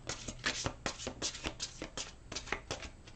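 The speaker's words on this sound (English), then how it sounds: "One more shuffle here." Tarot cards are shuffled quietly and close up in a quick riffling rhythm, a series of soft flutters and taps.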